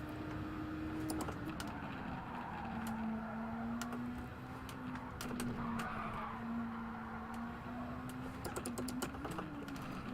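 A race car whips around a hairpin in Gran Turismo 7: a steady engine drone holds throughout, with brief tyre squeals and small clicks scattered over it. No speech.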